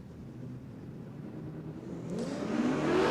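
A Ford Prefect drag car at a Queensland Drag Racing Championships round at Willowbank Raceway, engine building from a steady idle to a rising, louder rev near the end, heard from a moderate distance.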